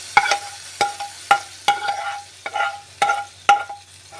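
Fenugreek and cumin seeds in hot oil for a tadka, a low sizzle broken by sharp repeated scraping and stirring clicks at a roughly regular pace, close and clear.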